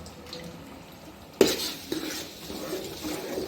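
A spoon stirring curd and spices in hot oil in a cooking pot, with a sharp utensil clatter at the start, followed by steady scraping and soft sloshing continuing close by, moderately quiet.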